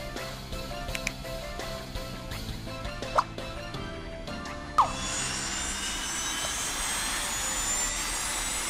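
A jet engine in the video game Scribblenauts: game music with a couple of sharp clicks gives way midway to a loud, sustained roaring whoosh that holds steady to the end.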